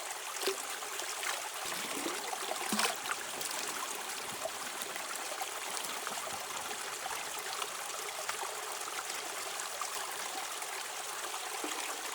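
Small stream trickling steadily over rocks and gravel at Dark Corner, NSW, with soft burbling close by and no voices.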